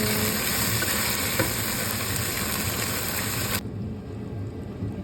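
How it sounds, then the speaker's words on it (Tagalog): Garlic, onion and ginger sizzle steadily in a hot pan for chicken adobo, a loud dense frying hiss that drops off abruptly near the end, with no talking. "Ilagay na natin yung bawang, sibuyas, at luya. Ayan, haluin natin."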